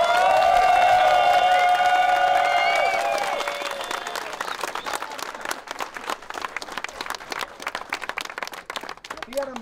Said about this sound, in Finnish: annetaan seuraavaksi aplodit Makosa Street Boys ry:lle